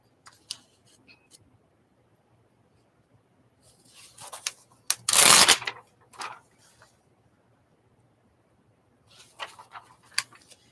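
Scissors snip through glossy magazine paper while pictures are fussy cut out; scattered single snips come close and crisp, with a denser cluster of cutting in the middle and no voices.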